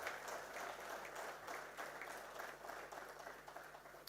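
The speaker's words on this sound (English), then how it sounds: "Can we give a big round of applause to the jury members?" Steady, dense audience applause for jury members at a competition's concluding session, a continuous wash of many hands clapping, heard faintly and at a distance.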